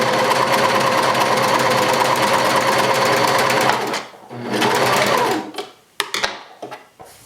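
A serger stitches a rolled hem on woven fabric, a loud, steady mechanical whir that runs for about four seconds, then starts again briefly and stops, ending in a few small clicks and handling sounds.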